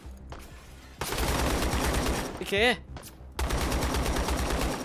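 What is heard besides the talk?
gunfire all around in a Black Hawk Down video game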